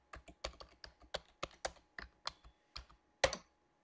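Keys on a computer keyboard clatter as a root password is typed for an Ubuntu server setup, about a dozen close, crisp keystrokes in an uneven rhythm ending with one harder tap, with no voices.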